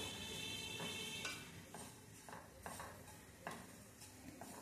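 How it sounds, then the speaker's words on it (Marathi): Semolina (rava) being dry-roasted on a low flame, a soft steady scraping with a few louder stirring strokes against the pan, fairly quiet throughout with no talk. "आता मी कमी गॅसवरती भाजून घेत आहे"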